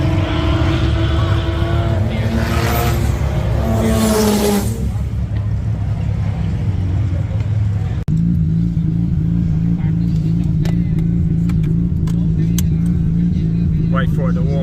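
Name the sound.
rotary car engine warming up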